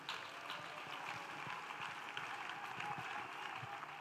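A church congregation claps together in a steady, sustained round of applause, moderately quiet and diffuse, with a voice speaking faintly beneath.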